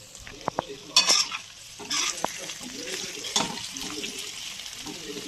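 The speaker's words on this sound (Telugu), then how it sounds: "ఇంకాసేపు ఫ్రై చేసి తీసేస్తాను" Paneer tikka frying in a pan, with a steady low sizzle broken by several sharp clicks and scraping bursts as the pieces are stirred and turned, close and moderately loud.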